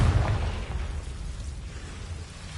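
Confringo fire spell blast in the Hogwarts Legacy video game, a loud low boom that rumbles and decays over a couple of seconds with no speech over it.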